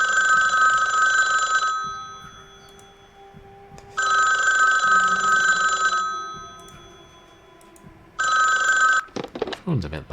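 A telephone rings loudly in the Delaware St. John 2 game, three long electronic ringing bursts separated by pauses, close and dominant, with a voice starting in at the end.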